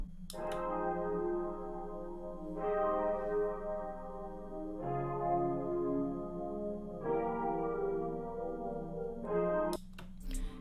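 Chords played on an Ample keys virtual piano in Ableton Live, processed with chorus, imager and reverb, ring out as five sustained, swelling chords in sequence, each held for about two seconds, with no voices.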